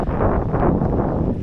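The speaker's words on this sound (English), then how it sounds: "I apologise if it's a bit windy" Wind buffets the microphone on a beach in Türkiye, a loud, dense low rumble lasting just over a second with no voices.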